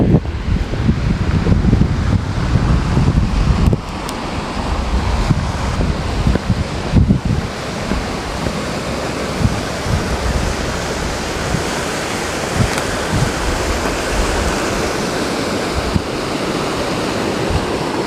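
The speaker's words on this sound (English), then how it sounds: "There's the creek." Steady broadband rush of a year-round creek running over gold-country tailings in California, continuous and fairly loud throughout with some wind buffeting on the microphone, no talking.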